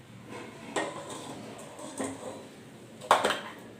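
Faint clinks of a spoon against a pot ring out at irregular intervals while a dal and yogurt mixture is stirred into water, against a soft background hum.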